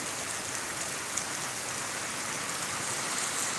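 Heavy rain falls in Bidkin, Chhatrapati Sambhajinagar, as a dense, even hiss that holds steady from start to finish with no voices over it.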